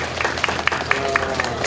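Audience applause at a neighbourhood residents' gathering, a short burst of scattered, moderately loud hand claps with a few distinct strikes standing out over a soft murmur of voices.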